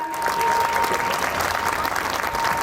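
Audience applause at a school prize distribution ceremony in Raipur, a dense, steady wash of many hands clapping throughout, moderately loud.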